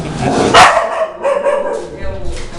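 A small pet dog gives a short bark or yip at a vet visit for vaccination, loud and close, followed by softer whining sounds.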